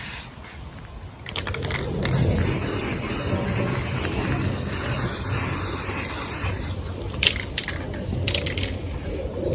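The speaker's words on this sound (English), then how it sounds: "Not the best day for paint spray" Spray paint hissing from a can outdoors on a windy day while painting a front garden feature, a steady broad hiss mixed with gusty wind rumble, with short sharper spurts near the end.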